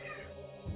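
A house cat meows briefly nearby, a short voiced cry swelling at the end, heard over steady music and sound effects from a Legend of Zelda: The Wind Waker randomizer game.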